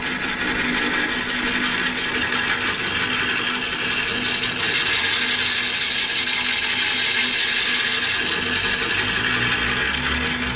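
A scraper works the inside of a large oak bowl spinning on a lathe, giving a steady, dense, continuous hiss and whir with a low motor hum underneath, close and loud throughout, with a slight shift in texture partway.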